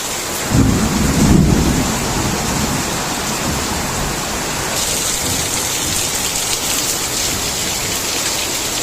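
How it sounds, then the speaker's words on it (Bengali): Heavy rain pours down steadily while a deep roll of thunder rumbles early on, then fades beneath the constant downpour. "মুষলধারে বৃষ্টি হচ্ছে, খুব ভালো লাগতেছে।"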